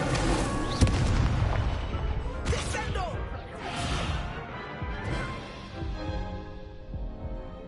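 The Incendio fire spell goes off in Hogwarts Legacy with a deep, booming whoosh and crackling burst. Heavy rumbling layers continue for several seconds, and a voice speaks over the effects.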